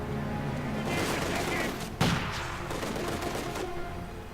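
Gunfire in the Company of Heroes 2 strategy game, a dense continuous fusillade of small-arms fire with a sharper burst near the middle, mixed under game sound and a faint voice.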